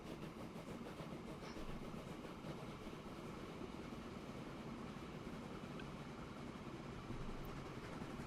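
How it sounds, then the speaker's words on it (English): A loaded freight train rolls along in the video game Transport Fever 2, a continuous broad rumble with faint clattering, steady and moderately distant, with no speech. "So now the train is fully loaded and it's going to head back up to the factory and drop off."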